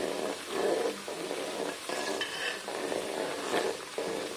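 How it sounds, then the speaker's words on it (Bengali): Coconut oil heats in a pan on a gas stove with onion frying in it to make a homemade hair oil. It gives a soft, continuous bubbling sizzle with occasional light stirring clinks. The sound is fairly quiet and no one speaks. "দেখুন নারকেল তেলটা কত সুন্দর ফুটছে।"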